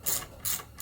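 Ratchet wrench tightening nylock nuts on a race shifter for a 1990–1993 Honda Accord, giving two or three quick rasping clicks close by.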